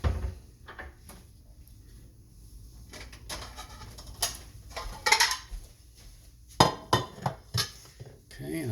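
Plates are taken from a kitchen cupboard: scattered clacks, a cupboard knock, and several sharp ceramic clinks clustered toward the end, fairly close against a quiet room.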